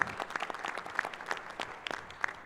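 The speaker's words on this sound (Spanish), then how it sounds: "desde aquí le enviamos un fuerte aplauso a la doctora Patricia" Audience applause at a weekly assembly meeting, a short burst of steady, dense clapping from a group, fairly close and continuous throughout.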